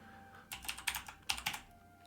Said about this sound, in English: So let's type in cloaks.